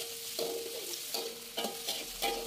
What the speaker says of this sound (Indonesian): Diaduk perlahan supaya tahunya ini enggak hancur ya.